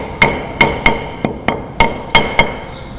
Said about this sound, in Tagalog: kaya pinupukpok ko